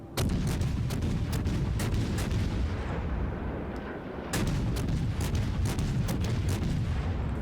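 Naval gunfire in World of Warships, a dense, continuous roar of heavy guns with sharp cracks repeating every fraction of a second, loud and steady throughout apart from one brief lull.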